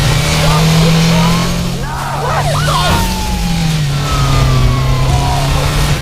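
A truck engine revs and strains during a police chase, with a siren wailing in the background and voices talking over the steady engine drone.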